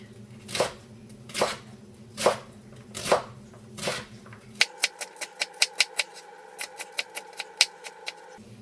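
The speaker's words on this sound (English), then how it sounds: "Now we're just gonna slice them horizontally." A knife slices vegetables into strips for kimchi, first with slow separate cuts, then a quick regular run of crisp chops on a board, close and clear with no talk.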